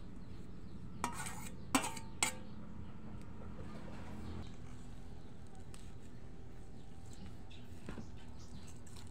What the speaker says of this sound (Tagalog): Saka isunod itong kinayod na buko at haluin ng mabuti.